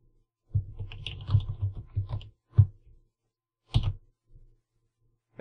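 Short bursts of keystrokes on a computer keyboard while entering an expression in After Effects, clustered clicks with pauses, close and fairly quiet.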